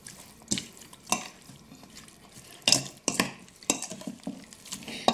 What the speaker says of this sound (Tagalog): Hahaluin ko lang siya ng ganyan